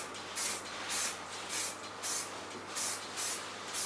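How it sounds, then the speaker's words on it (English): A can of ordinary hairspray sprays onto hair in a salon in six short, even bursts of hiss at a steady rhythm, close and fairly quiet. "To finish it, take a normal hairspray."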